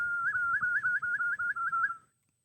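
A person whistles a bird imitation: a quick, warbling series of about ten rising chirps, close and clear, lasting around two seconds before silence.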